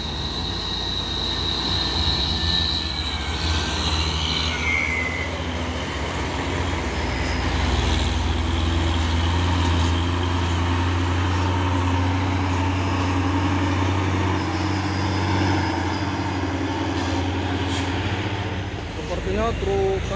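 Heavy trucks climbing a hill in convoy on a Sumatran road, a loud steady low engine drone filling the whole stretch with a faint horn-like tone near the end.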